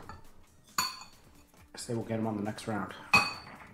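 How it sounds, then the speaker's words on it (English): Dishes are put away during a game session, with sharp clinks of plates and cutlery and rattling dishware, heard faintly under people talking nearby. "He's putting dishes away."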